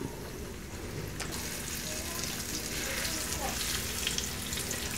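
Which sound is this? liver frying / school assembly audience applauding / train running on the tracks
liver frying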